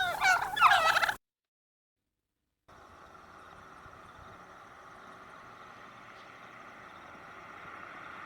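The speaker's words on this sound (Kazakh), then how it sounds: "Бұл түйе тауық." A turkey gobbles loudly in one short burst, followed by silence and then a low, steady hum of distant engine noise.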